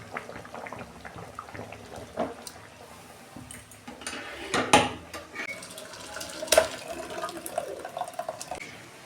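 Fish curry is poured out of a pan, with liquid splashing and dripping, metal scraping and clinks of the pan and utensils, moderately close and uneven in loudness, with no talk.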